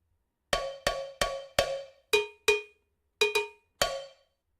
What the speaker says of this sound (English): That cowbell is not loud enough.